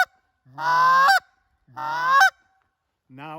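Three loud, nasal honks blown on a goose call, drawn out and evenly spaced, each rising slightly in pitch; the last is cut short.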